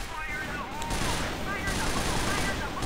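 L85A1 rifle fire in the shooter game Crossfire, a dense stream of rapid gunshots with a voice talking over the shooting.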